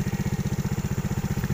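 A motorcycle engine putters steadily while being ridden slowly, with a close, even pulse of low firing beats and no one speaking.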